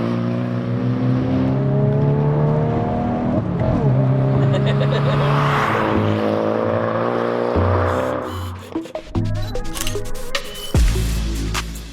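A Hyundai i20N hot hatch engine revs hard and loud, sustained rising and falling engine tones for several seconds, then breaking into choppy bursts, crackles and sharp blips near the end.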